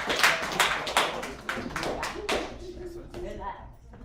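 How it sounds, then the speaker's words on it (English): At an alumni meeting, an audience gives a speaker a brief round of applause, a scattered burst of claps near the start that thins out and fades under quiet background murmur. "Let's give Doug a round of applause"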